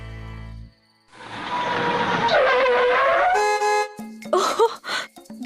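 A father's favourite car in a Hindi drama scene, its engine rising into a loud, sustained roar after a brief silence, then cutting off into a few sharp, choppy noises near the end.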